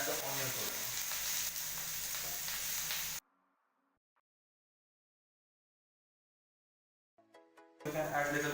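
Chillies and onions hiss and sizzle loudly in a hot pan for a few seconds while poha is made, then the sound cuts to near silence before a brief burst of tonal sound at the end.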